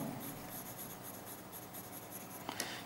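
A pencil scratches and rubs steadily across paper, shading a drawing with continuous close, quiet strokes, alone without any voice.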